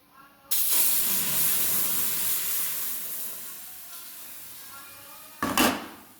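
Hot milk poured into a hot pan of slow-roasted, light-brown semolina for suji halwa erupts into a loud hissing, steaming splatter. It fades gradually over several seconds before a second sharp burst near the end.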